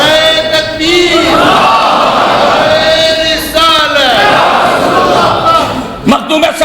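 A large crowd at a religious gathering roars back in unison to the Naara-e-Takbeer chant, loud sustained massed voices swelling in waves, with a lead voice calling over them.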